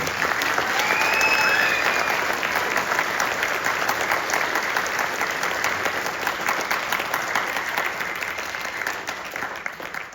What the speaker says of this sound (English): How about a huge hand for our custodians?